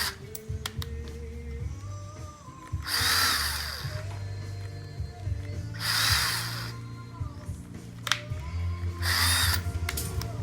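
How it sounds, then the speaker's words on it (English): Power drill boring into rubber around a shaft lug on a 1966 Triumph Tiger 100 500cc twin motorcycle, three loud whining bursts at even intervals over a steady low hum. "I'm just going to drill into the rubber all the way around."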